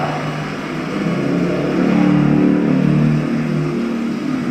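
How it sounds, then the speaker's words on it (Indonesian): Car engine with a knocking, pinging fault, idling and revving in a steady drone that swells in the middle, with no talk. "mesin suara menggelitik disertai ada bunyi semacam ketukan"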